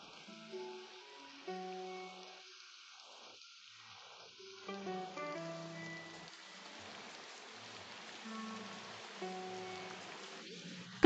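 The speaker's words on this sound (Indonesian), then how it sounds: "Hujan deras sekali." Heavy rain falls with a steady hiss beneath soft melodic music playing throughout.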